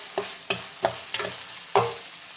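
Curry leaves frying in a pan for a chicken dish, five sharp scraping stirs over a soft sizzle, close and fairly loud, roughly evenly spaced with no talking.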